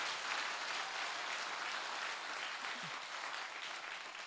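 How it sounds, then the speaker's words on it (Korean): A church audience claps during a pastor's testimony talk, giving a steady wash of faint, distant applause with no voices heard. "제 말에 동의하시면 한번 박수 한번 세게 쳐주세요"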